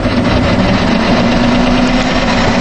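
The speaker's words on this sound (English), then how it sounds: "It's in third gear. Let's see if I can go. I can go in fourth." The engine of a 1988 Ford F150 parts truck, just cold-started after three months, runs in gear with a loud, steady, rough drone up close that fills the whole span without a break.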